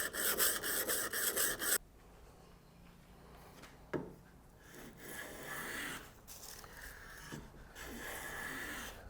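A Bench Dog No. 4 hand plane is pushed across soft pine, starting with a rough rasping shave, then quieter scraping and brushing strokes with a sharp knock in between, all close and without talk.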